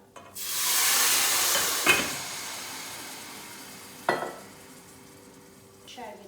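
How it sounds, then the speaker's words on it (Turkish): Water hits a hot pot of flour halva with a loud rushing sizzle that slowly fades to a steady hiss, broken by a few clanks of metal. "kızgın tencereye koyduğum için şöyle birden koyup kapağını kapatacağım"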